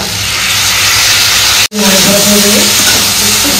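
Vegetables with ginger paste and poppy seed paste sizzle and fry in a pan, a loud steady hiss broken once by a brief pause, with a voice speaking over the sizzle afterward.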